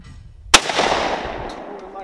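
A single sharp shotgun blast at a clay target shooting range cracks out close and loud, then trails off into a long rolling echo that fades over the next second and a half.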